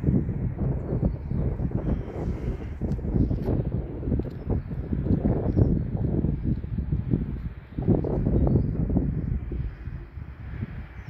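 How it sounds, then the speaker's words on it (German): Strong storm wind buffeting outdoors, a continuous low rumbling roar with gusty surges throughout, loud and close to the microphone. "Der Sturm, ich hab Angst."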